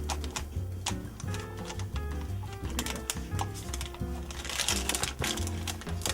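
A knife cutting a tablespoon of butter into little pieces for an apple crisp, rapid close tapping and clicking of the blade on a board, busy and irregular throughout.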